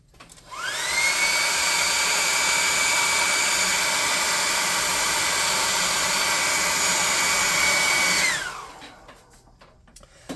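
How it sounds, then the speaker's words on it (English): A hair dryer, used to dry a painted miniature anvil, switches on, blows with a steady high whine for about seven seconds, then winds down and stops. "We're going to hit this with a hairdryer."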